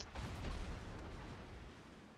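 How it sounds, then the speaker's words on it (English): Rear guns of a warship firing high-explosive shells in World of Warships, a single heavy boom at the start trailing into a long rumbling decay, with no talk. "He shoots his back guns with HE"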